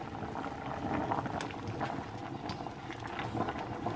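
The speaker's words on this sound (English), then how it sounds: "I'm cooking whole wheat spaghetti and then also the little curly pasta" Whole wheat spaghetti and small curly pasta boiling in a pot, giving a steady, fairly quiet bubbling and gurgling with faint kitchen clatter and no talking.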